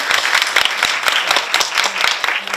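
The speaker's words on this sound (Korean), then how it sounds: "네, 박수 한번 드립니다" Audience applause at a film Q&A with actress Na Moon-hee for the movie Room Sharing, a burst of lively, close clapping with sharp individual claps standing out throughout.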